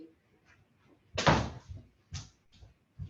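An indoor door is pushed shut with a loud close thump, followed by a few softer knocks and bumps from the handle and frame.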